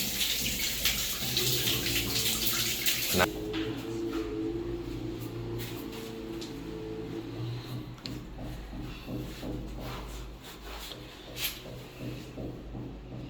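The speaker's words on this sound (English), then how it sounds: "we're giving everything a test and blowing the trash out of the lines" Water rushes through newly installed plumbing lines and drains during a test purge in a beach house under construction. A steady gushing flow runs for a few seconds, then drops to a quieter trickle with scattered splashes and clicks.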